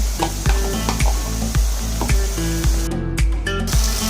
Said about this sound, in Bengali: তিরিশ সেকেন্ডের মধ্যে একটু ভেজে নেব যেন রসুন আর আদার যে কাঁচা গন্ধটা একটু দূর হয়